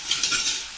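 Baby food jars clink and clatter lightly against each other in a short, close burst while being rinsed and cleaned.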